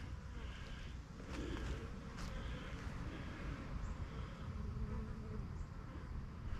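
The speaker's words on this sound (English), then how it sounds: "Look at the bees running this thing" Quiet, continuous buzzing of many bees close by around a swarm trap, a low drone with occasional brief louder passes, with no voices.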